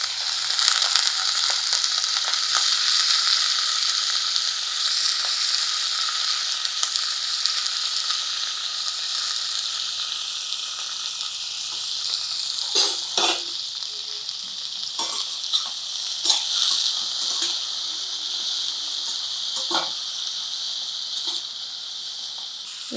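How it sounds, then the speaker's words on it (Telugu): Brinjal pieces frying in oil with a pinch of turmeric make a loud, continuous bright sizzle, with occasional clatters and stirring scrapes near the end; close up, no speech. "నూనెలోనే ఒక చిటికెడు పసుపు వేసేసి వంకాయ ముక్కలు వేసేద్దాము"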